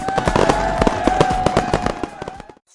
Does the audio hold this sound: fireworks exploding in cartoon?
yes